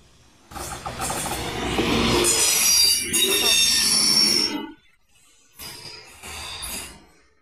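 A small train clatters through a railroad crossing in Essen (Oldenburg), loud rushing and metallic rolling with high screeching wheel squeal, close by, then a sudden drop and a shorter burst of passing noise.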